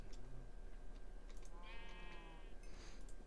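A sheep in the Minecraft video game lets out a short wavering bleat, faint and brief, set against a steady low background hum.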